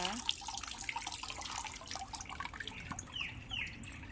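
Water trickles and drips as potted caladiums and alocasias are watered, with light splashing throughout and faint bird chirps in the background.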